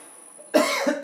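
A person suffering from a bad cold lets out a single close, sharp cough, followed by a quick second catch in the throat, against a faint background hum.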